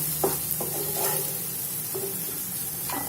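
Green chillies roast in a pan over a low gas flame, a soft continuous sizzle with a few sharp scrapes and taps of a spatula, close and quiet with no talking.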